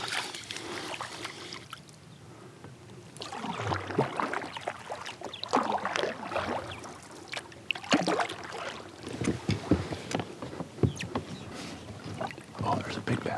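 A kayak paddle dips and pulls through clear summer water while bass fishing, soft splashes and drips in an uneven rhythm, close to the boat, with light wind and a few handling knocks.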